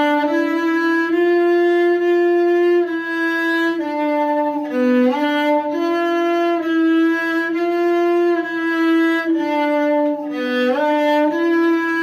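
Cello alone plays the last two lines of a Suzuki positioning étude, long sustained bowed notes shifting in pitch with a few quick slides, steady and fairly loud, no voice.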